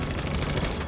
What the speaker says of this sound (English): group is under fire and can't move